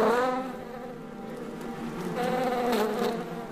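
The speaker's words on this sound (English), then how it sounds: "Worker bees live for only 1 month." Worker honey bees buzz in a dense, continuous drone near a colony, close and fairly loud, with the pitch wavering as individual bees move about.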